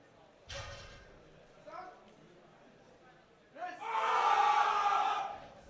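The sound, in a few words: Netherlands fans cheering at powerlifting championship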